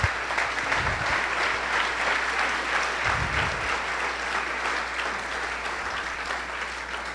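A church congregation applauds during a Sunday service, with a full, sustained roar of clapping that holds steady from start to finish.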